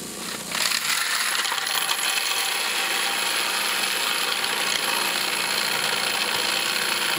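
A loaded tumbler rattles with .223 brass cartridge cases, a steady, loud, dense metallic clatter and whir that starts abruptly and runs on unchanged with no talking.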